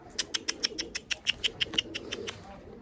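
A tumbler pigeon, a four-year-old blue male, flies in toward its owner outdoors near trees, giving a rapid series of about a dozen sharp, clipped bursts that could be wing claps or calls, moderately close, with faint background noise.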